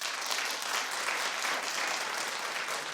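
A studio audience on a talk show breaks into applause, a dense, even patter of many hands clapping at a steady level throughout with no voices over it.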